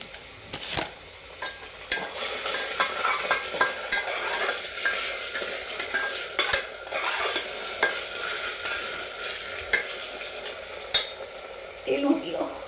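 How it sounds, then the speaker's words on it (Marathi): Chopped onion frying in hot oil in a pan for homemade soda rice, with a spoon scraping and stirring in repeated clinking strokes over a steady close sizzle, no talking. "कांदा भाजलेला आहे, बऱ्यापैकी लाल झालेला आहे."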